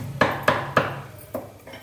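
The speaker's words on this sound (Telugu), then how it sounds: "ఈ జీలకర్ర ఈ వెల్లుల్లిపాయలు చక్కగా ఈ గిన్నెలో వేసి మరి కచ్చా బచ్చాగా దంచేస్తానండి" Cumin and garlic being coarsely pounded in a bowl: five sharp, close knocks, three evenly spaced and then two softer ones after a pause, each with a short ringing decay.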